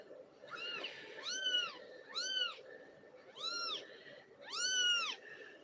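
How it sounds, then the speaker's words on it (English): Kitten just woken from sleep, mewing in distress: five clear, high rising-and-falling meows in an uneven rhythm, close and fairly loud, over a low steady background hum. "That kitten's distressed because that woke up"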